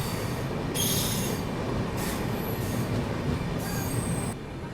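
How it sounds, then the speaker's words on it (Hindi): The Tatanagar–Itwari Nagpur train rolls past on the rails in a continuous loud rumble, with high wheel squeals rising and fading several times over the steady roar. "टाटानगर इतवारी, नागपुर को जाने वाली ट्रेन"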